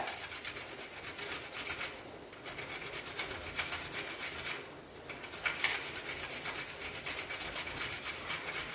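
A carrot rubbed against a hand grater in a home kitchen, giving a steady, close, rhythmic rasping with two brief pauses between runs of strokes; no one speaks.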